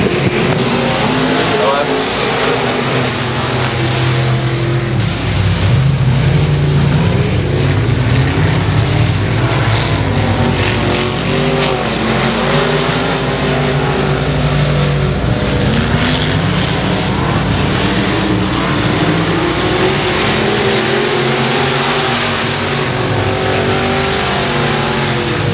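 Race cars roar around the dirt oval at Boothill Speedway during the Fremont heat race, a dense, continuous snarl of engines rising and falling as they pass, with an announcer talking over them throughout.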